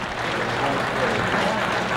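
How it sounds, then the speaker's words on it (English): Baseball crowd at a summer collegiate game applauding a diving attempt at a foul pop-up near the bullpen, a steady, dense wash of clapping filling the whole stretch. "putting their hands together"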